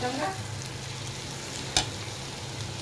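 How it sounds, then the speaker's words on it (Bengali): Food fries steadily in a pan, a soft continuous sizzle with a brief sharp clack near the middle, close and moderately quiet, without any speech. "এটাকে আমি একদম ভাজা ভাজা করবো"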